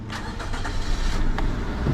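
A 2013 Perodua Myvi 1.3 EZ automatic starts with the key: a brief cranking whir catches into a running engine, close and steady to the end.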